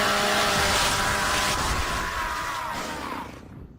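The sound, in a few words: Gears of War chainsaw melee attack sound, from a video game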